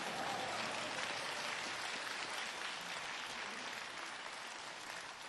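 Steady, dense applause from a large crowd at an outdoor rally, a continuous wash of clapping hands that holds for several seconds and eases slightly toward the end, with no voices over it.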